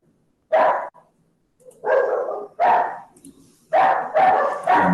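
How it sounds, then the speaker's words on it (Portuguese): Agitated dogs barking at a passing garbage collector, loud close barks in separate bursts that get denser and overlap toward the end. "Por isso que meus cachorros estão agitados."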